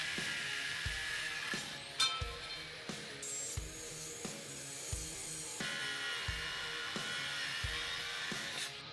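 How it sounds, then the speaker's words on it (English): A cutoff wheel grinding through metal overhead cage plates for a truck cab top install, a steady high, hissing whine with rhythmic low thumps and brief pitch shifts as the cut bites, no voices. "use a cutoff wheel to trim the triangular overhead cage plates we marked earlier."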